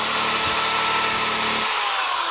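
A power drill spinning an orange buffing ball to polish metal with Flitz whirs steadily and loudly with a broad hiss, its low rumble dropping away near the end as the tool spins on.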